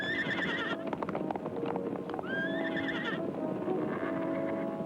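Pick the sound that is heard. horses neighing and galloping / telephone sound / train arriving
horses neighing and galloping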